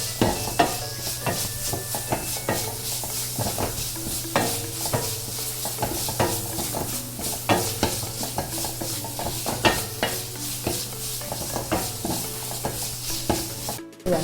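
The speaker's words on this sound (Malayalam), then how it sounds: "ഇഞ്ചി വെളുത്തുള്ളിയുടെ പച്ചമണം പോണ വരെ നന്നായിട്ട് നമ്മൾ വഴറ്റിയെടുക്കണം." Ginger and garlic sautéing in a pan for a crab roast curry, with a steady sizzle under a brisk run of spatula strokes and scrapes against the pan, close and loud throughout.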